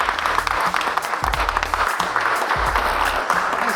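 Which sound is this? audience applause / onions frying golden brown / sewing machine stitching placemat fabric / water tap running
audience applause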